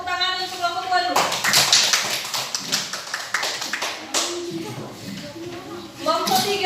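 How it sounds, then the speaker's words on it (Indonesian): A group of students claps for another group in a classroom during a religious education lesson, a dense burst of clapping starting after brief talk and fading under a teacher's voice near the end. "Beri tepuk tangan untuk kelompok 2 dulu."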